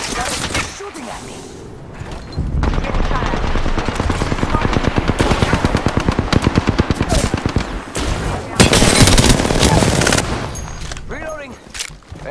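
Sustained automatic gunfire in a battle royale video game: long rattling bursts, loud and close, pausing briefly between volleys before a final heavy stretch that fades out.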